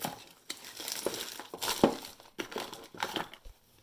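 Copper tape being handled for a motorized Iron Man helmet build, close crinkling and rustling in irregular bursts with light clicks, no voices.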